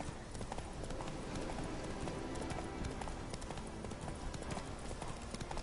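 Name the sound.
horse Roach hooves clip-clopping in The Witcher 3 video game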